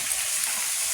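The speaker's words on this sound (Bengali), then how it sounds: "ও বৃষ্টি হচ্ছে সবাই" Steady rain pours down in a continuous hiss, even and unbroken, with no voices.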